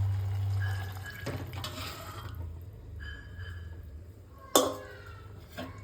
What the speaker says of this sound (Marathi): इथं आपलं पाणी हे गरम झाले ते आपण आता त्याच्यामध्ये ओतूया